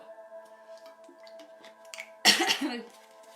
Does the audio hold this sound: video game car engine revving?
no